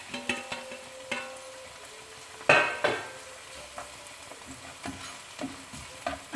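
Tomatoes frying in a pan for a potato and spinach curry, a steady soft sizzle broken by occasional scrapes and clinks of a stirring utensil, close and moderately quiet.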